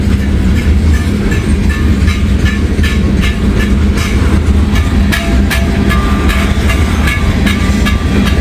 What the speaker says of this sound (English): he can't hear over the roar of this train going through